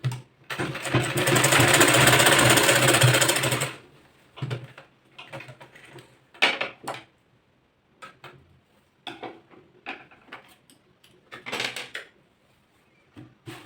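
A sewing machine stitches tucks on a boat neck blouse, one long continuous run of rapid needle clatter followed by short stop-start bursts and handling clicks.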